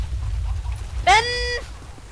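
A single short clucking squawk from a chicken in the video game MW3 stands out once over low background rumble.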